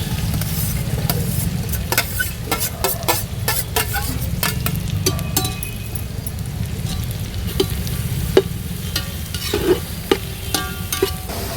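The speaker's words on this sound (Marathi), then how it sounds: "तेल चांगलं गरम झाले. आता कांदा आणि लसूण टाकून देते." Onion and garlic fry in hot oil for a village-style chicken biryani, sizzling loudly and steadily while a utensil scrapes and stirs through the pan, close by.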